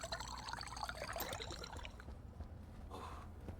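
Water pours steadily into a water bottle in the video game Stationeers, a continuous trickling splash that thins out toward the end, with no talking.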